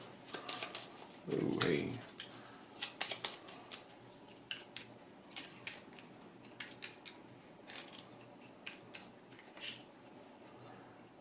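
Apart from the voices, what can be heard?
shuffling a deck of board game cards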